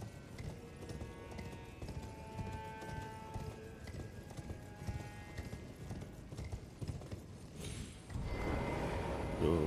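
Rhythmic clip-clop of horse hooves in Elden Ring: Shadow of the Erdtree, steady and moderately loud, followed near the end by a louder burst of noise.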